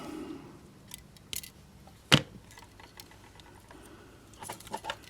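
Scissors snip in a few short, crisp cuts, one sharp and loud near the middle, with lighter clicks and rustles scattered around it in a quiet room.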